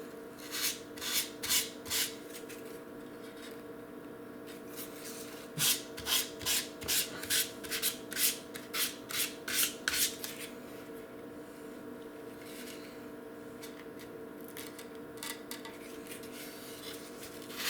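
Excess tissue is trimmed and rubbed off a model aircraft with a rapid, rhythmic rasping scrape in bursts of quick strokes, set against a steady background hum, with quieter stretches between the bursts.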